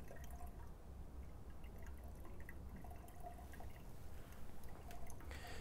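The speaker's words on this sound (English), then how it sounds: "put my funnel in, and I'm going to start" Liquid solution poured through a funnel into the tank of a dual torch hydrogen welding machine, a soft continuous trickle and drip that stays faint and steady throughout with no talking.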